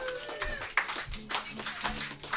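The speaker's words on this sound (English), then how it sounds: "Let's do a round of applause for Tara." A pub crowd at a live event claps in welcome for a performer, the applause brisk and fairly close, mixed with a few cheers and some overlapping voices.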